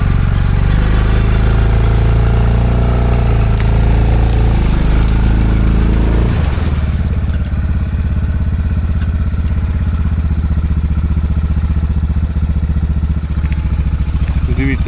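A Linhai 550 ATV engine runs hard and loud throughout while the quad wades through waist-deep water, a steady buzzing motor with clattering and a change in pitch around six seconds; someone talks over it.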